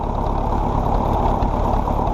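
A 1957 French tractor engine idles steadily close by, a continuous low rumble with no change in pace and no voices.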